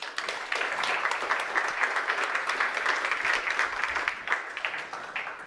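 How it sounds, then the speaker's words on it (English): Audience applause fills a pitching-event hall, a steady wash of clapping hands held at even strength throughout, with no voices over it. "So let's give a final applause to everybody."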